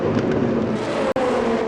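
An LMP2 prototype race car overtakes during a sportscar race at Portimão, its engine a loud, steady roar that holds without a break except for one sharp dropout near the end, with no talking.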